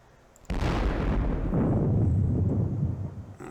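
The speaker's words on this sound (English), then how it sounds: "But that was musket and rifle and cannon fire." Musket, rifle and cannon fire from a Civil War video game battle at Perryville, a sudden loud blast that swells into a dense, rumbling roar of volleys and booms, fading slightly toward the end, with no talking.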